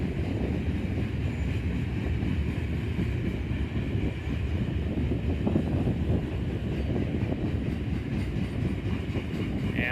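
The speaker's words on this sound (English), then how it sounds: "It's that coal train under slow orders heads west." A westbound coal unit train of hopper cars from different owners rolls slowly past near Oak Harbor, Ohio, a steady close rumble with wheel clatter and some wind noise over the microphone, continuous for the whole stretch.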